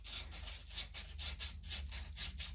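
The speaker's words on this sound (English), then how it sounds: "So it's just a little bit of manual sanding." Steady back-and-forth rasping of 400 grit sandpaper worked by hand along a guitar fingerboard during a refret, a close, even rubbing rhythm of about three strokes per second with no talk.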